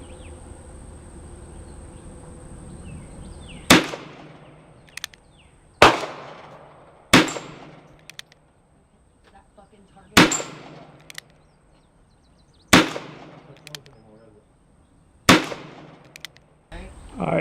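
Seven loud, sharp gunshots from a .32 H&R Magnum firing 85 grain powder-coated round nose loads over Red Dot powder, spaced a few seconds apart outdoors with quiet pauses and faint insect buzz between.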